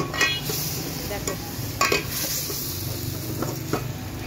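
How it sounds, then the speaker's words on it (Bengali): Cauliflower sautés in a pan on a gas stove, a soft sizzle running beneath repeated scraping strokes of a spoon against the pan, close by and moderately quiet. "কষিয়ে নিচ্ছি সুন্দর করে ফুলকপিটা।"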